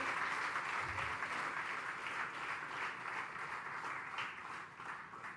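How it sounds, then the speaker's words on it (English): An audience at a national scientists' conference gives a round of applause for the dignitaries on stage, a fairly faint, even wash of many hands clapping from a distance. "a big round of applause for all the dignitaries and stalwarts on stage"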